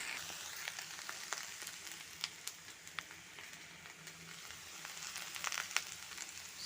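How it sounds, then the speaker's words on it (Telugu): Okra (ladies finger) fries in a pan with a soft, steady sizzle and scattered sharp crackles and pops, quiet and close. "బెండకాయ వేగుతూ ఉంది కదా"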